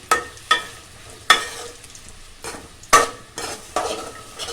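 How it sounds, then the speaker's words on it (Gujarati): Peanuts and bread cubes being stirred in hot oil in a pan, a steady sizzle broken by several scraping stir strokes, close and loud with no voices. "સિંગ અને બ્રેડ આપણે થોડીક વાર તેલમાં આમ હલાવતા રહીશું"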